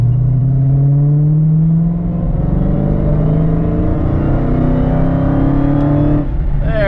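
A 2015 Dodge Challenger Hellcat engine roars loudly under full-throttle acceleration, its pitch rising steadily across several gear pulls with a brief dip at a shift, heard close and continuous with no talking.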